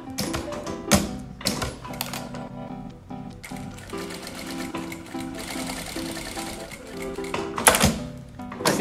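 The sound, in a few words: sewing machine stitching with presser foot 5-16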